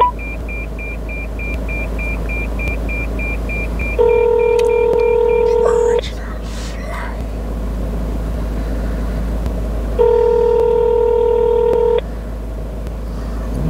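Telephone dialing and calling tones play in two bursts of steady beeping ring tones, each lasting about two seconds, over a low background hum with a faint repeating tone; no speech.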